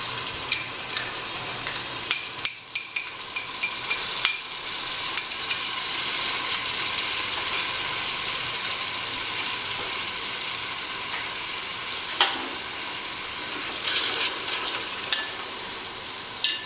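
Masala with beaten curd sizzles steadily in a pan while being stir-fried for mutton haleem, with a continuous loud frying hiss broken by occasional scraping strokes of a spoon.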